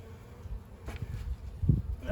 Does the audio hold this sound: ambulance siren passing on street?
no